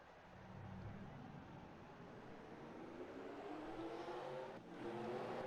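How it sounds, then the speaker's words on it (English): A field of 42 race car engines fires up together at the start of a NASCAR video game race at Milwaukee, producing a low, steady rumbling drone that swells slightly, moderately distant and without speech. "Engines firing."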